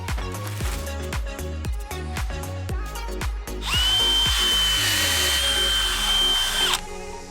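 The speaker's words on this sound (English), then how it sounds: "I am going to use this power planter auger to help me dig some of these holes." A power planter auger on a drill digs holes for planting bulbs on a farmhouse in fall: a run of rhythmic knocking thuds, then a loud, steady, high motor whine for about three seconds before it stops.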